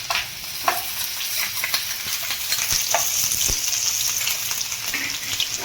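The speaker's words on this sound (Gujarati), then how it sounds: "લીલા મરચાં તો એ પણ સરસ મજાના તળાય છે" Ginger, green chilies and green garlic fry in hot oil with a steady, close sizzle and crackle, broken by occasional stirring clicks and scrapes.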